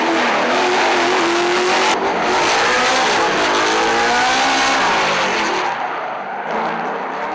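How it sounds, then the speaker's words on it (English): Ford Mustang D1 drift car with its engine revving hard and loud, a continuous high-revving roar with rising and falling pitch and possible tire squeal, up close throughout with no talking. "This is my Falcon Tire Ford Mustang"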